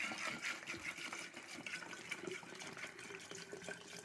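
Tap water being poured over fava beans to soak, a steady close splashing and gurgling stream with no talking.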